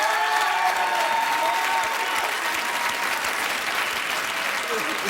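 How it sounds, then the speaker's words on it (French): Steady studio audience applause fills the whole stretch, a dense, even clapping crowd at moderate loudness with no break. "Est-ce qu'on peut m'applaudir, s'il vous plaît?"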